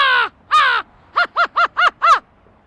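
A man imitates an American crow: two long harsh caws, then five short clipped caws in quick even succession, loud and close with no other sound.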